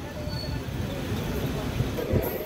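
A DEMU passenger train on the Kurnool–Guntakal line pulling out of Veldurthi station, heard from inside as a low rumbling roll with faint clanks and a brief higher squeal near the end.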